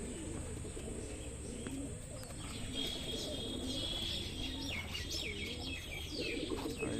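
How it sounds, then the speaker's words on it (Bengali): Home-bred desi Giribaz pigeons cooing in low, repeated throaty phrases close by, mixed with higher chirps from other birds and a constant background hiss. "বালি পায়রা বন্ধুরা বালি আর বিস্কুট"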